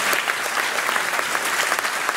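An audience at the closing event of the 2018 state garden show in Burg breaks into applause, a dense, even patter of many hands clapping continuously at moderate loudness.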